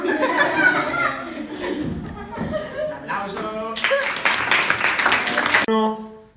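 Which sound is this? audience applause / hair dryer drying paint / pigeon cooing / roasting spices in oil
audience applause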